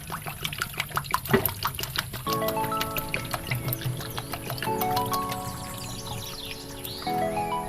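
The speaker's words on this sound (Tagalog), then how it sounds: "Tapos lagyan natin ng tubig." Water pours and trickles into a homemade steamer pot set up for cooking cassava puto, a steady liquid fill with splashy clatter, with no talk.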